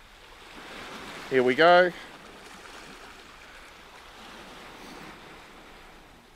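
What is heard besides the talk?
ocean waves washing on the Anglesey shore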